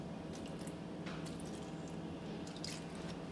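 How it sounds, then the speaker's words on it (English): Coconut milk poured into a blender for a banana and pineapple juice smoothie, giving soft, continuous wet squishing and dripping sounds with faint splashes, close and alone with no talk. "I'm gonna do a splash of coconut milk."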